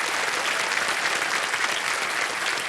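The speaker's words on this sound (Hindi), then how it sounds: "ताली बज जाए इनके लिए" Studio audience applause on a TV quiz show set, a dense, steady roar of many hands clapping, loud and close, filling the whole moment without talk.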